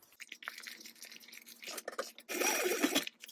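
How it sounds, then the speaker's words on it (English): A domestic sewing machine bastes a pocket onto a mini backpack in short, quiet bursts of stitching, ending with a louder, faster run. "I'm gonna go ahead and baste my pocket down now on the other 3 sides"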